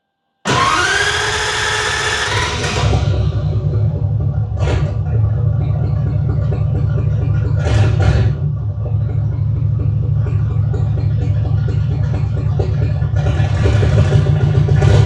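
A 1950 Ford with a newly fitted turbo and fuel pump cranks and rumbles loudly, a steady low engine drone running throughout with a couple of brief higher bursts, no speech over it.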